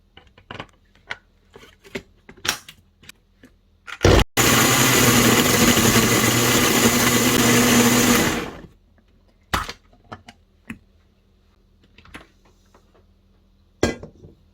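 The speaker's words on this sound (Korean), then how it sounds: "나누어가며 믹서기에 갈아줄 거예요." An electric blender grinds soaked dried chilies with pear, anchovy sauce and salted shrimp into kimchi seasoning. A loud, steady whir lasts about four seconds. Scattered kitchen clicks and knocks come before and after.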